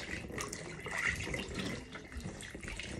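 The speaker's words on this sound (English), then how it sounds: "go ahead and wash him up" Tap water runs steadily while a baby is being washed at bedtime, a soft continuous splashing stream at moderate distance with no talking over it.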